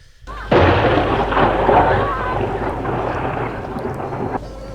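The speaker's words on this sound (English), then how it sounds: "Why does everything sound like thunder, like a storm?" A deep, continuous rumbling roar like distant thunder swells in and holds steady for several seconds, broad and heavy, then cuts off.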